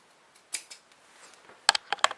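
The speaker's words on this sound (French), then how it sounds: "on découpe les arrondis dans les 4 angles" Scissors snip the rounded corners of a fabric piece for a wallet, sounding as a few sharp, close crisp cuts spaced out, then a quicker cluster of snips near the end.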